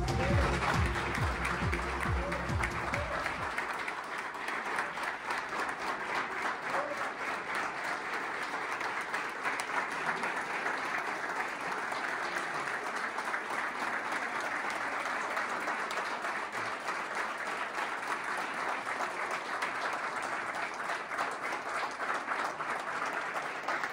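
Sustained applause from an indoor crowd welcoming the head of YPF at the Río Negro provincial Energy Secretariat, steady dense clapping throughout, with a brief low voice at the start.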